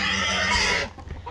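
Goat calling out, a single loud bleat close by that cuts off sharply and leaves faint background rustle.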